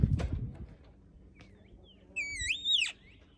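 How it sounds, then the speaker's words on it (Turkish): Outdoors on a palace terrace near Masada, a single bird gives a short, clear, warbling call that rises and falls after a moment of faint background noise and a brief low thump. "Karşıdan haberleşiyor başka bir kuşla."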